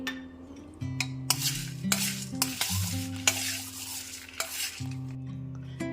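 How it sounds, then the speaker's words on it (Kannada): Cinnamon and cloves roast over a low flame in a pan under a quiet sizzle, while a spoon stirs them in repeated scraping, clinking strokes. "ಮತ್ತೆ ಇದ್ರ ಜೊತೆ ಚಕ್ಕೆ ಲವಂಗ ಇದನ್ನು ಕೂಡ ಸೇರಿಸ್ಕೊಂಡು ಹುರ್ಕೋತಾ ಇದ್ದೀನಿ."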